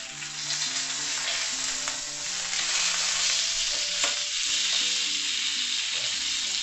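A stuffed pomfret fish fries in a pan with a steady, crackling sizzle that stays close and fairly loud throughout, with faint stirring sounds.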